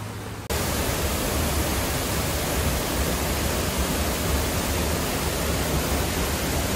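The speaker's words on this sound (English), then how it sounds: "down next to the falls, it's pretty loud" Waterfall on Wequiat Creek roaring steadily from close range, a loud, unbroken broadband rush of falling water with no voices, beginning after a brief quieter moment.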